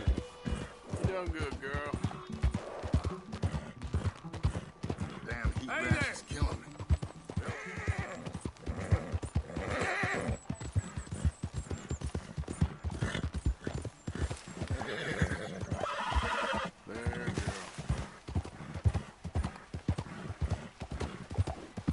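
Galloping horse hooves with repeated neighs and whinnies in the Red Dead Redemption 2 video game, a brisk clip-clop rhythm running throughout, under intermittent speech.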